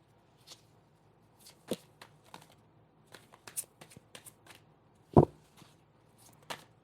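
Tarot cards being shuffled by hand: sparse, soft flicks and taps with one sharper slap near the end, close and quiet.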